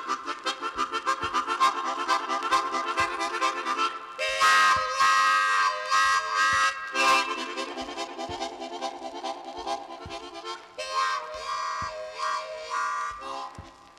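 Chromatic harmonica playing a musical imitation of a train, with rhythmic chugging chords and wailing whistle-like bursts, loud and continuous throughout with no voices.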